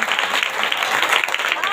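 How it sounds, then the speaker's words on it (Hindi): A church congregation at a Yesu ministry prayer meeting gives a burst of vigorous applause, dense and steady for a short stretch, with a voice faintly mixed in. "जोरदार ताली से धन्यवाद"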